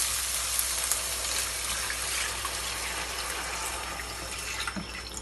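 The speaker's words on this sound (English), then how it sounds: "So we're going to go and put the milk in now." One litre of semi-skimmed milk poured into a pan, a steady continuous gushing rush of liquid lasting several seconds, fairly close and even in level, with no voices.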